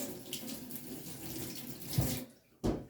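A knife is rinsed under running hot tap water while a chocolate coffee cake is being decorated, giving a steady close splash for over two seconds before the flow cuts and a brief clunk follows.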